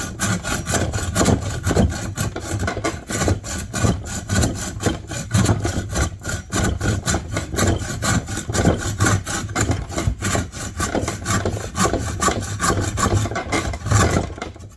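A repaired bow saw cuts through a wooden board with fast, rhythmic back-and-forth rasping strokes, close and loud, continuing without pause for the whole stretch.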